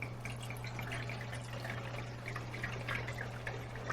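Wine trickles and drips into a measuring cup in a kitchen, a faint liquid patter with small splashes over a steady low hum, close by, with no talking.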